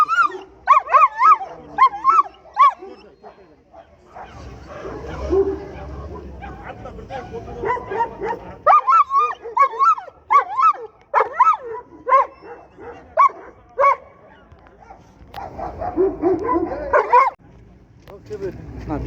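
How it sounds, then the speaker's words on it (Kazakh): A male shepherd dog barks repeatedly in short, loud bursts at a busy poultry and livestock market, with yips and whimpers mixed in, while people talk close by throughout. "Еркек овчарка."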